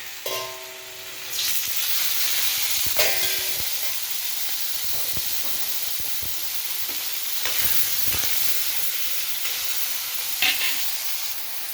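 Tomato pieces fry in oil in a pan for a peanut chutney, a steady close sizzle with intermittent scraping stirs and clinks throughout.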